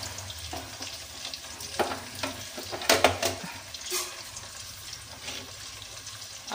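Capsicum, onion and other vegetables fry in a pan with a soft continuous sizzle, punctuated by a few louder stirring scrapes and clatters midway.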